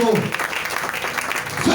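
A church congregation at a Sunday service claps and cheers in acclamation, a short burst of dense applause with voices mixed in throughout.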